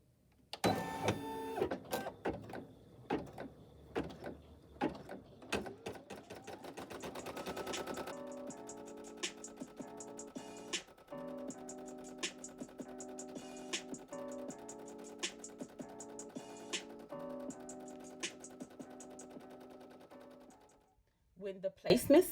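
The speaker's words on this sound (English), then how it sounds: "I'm going to push the green button to start the machine. This is going to stitch the first half of the placement stitch for the first layer." An embroidery machine fitted with a 5x12 hoop stitches the placement line for the first appliqué layer on a shirt, with fast, rhythmic mechanical ticking and rattling that runs steadily up close, after some irregular clicks and handling at the start.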